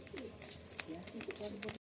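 A male tournament racing pigeon coos softly a few times, fairly near, while a person talks over it.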